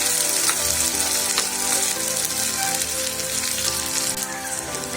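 Onions sautéing in hot oil in a pan for a banana stem dal kootu, a loud, steady close-up sizzle and crackle that continues without pause.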